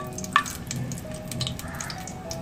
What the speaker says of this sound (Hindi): 4 लौंग एंड 2 ग्रीन इलायची, इसे हम सौते करेंगे।